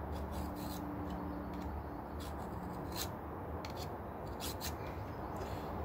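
Scribe dragged along the edge of an aluminium template for a resin-top guitar tail piece, a soft continuous scratchy rasp with a few sharp ticks, close up over a steady background hiss, no talking.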